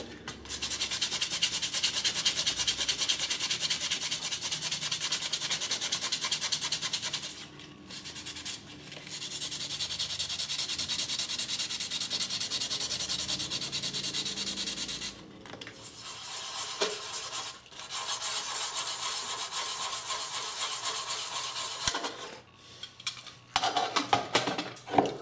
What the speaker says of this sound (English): The 400 wet and dry, right? Sandpaper, we'll just do that a little, give it a real smoothness.